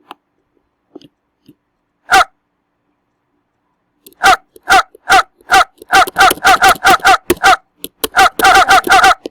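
A dog barks close by, a single bark followed by a rapid run of sharp barks that grows busier and more continuous toward the end.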